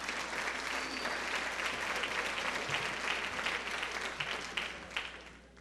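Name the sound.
graduation audience applause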